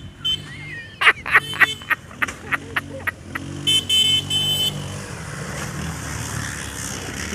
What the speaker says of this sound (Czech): Má klakson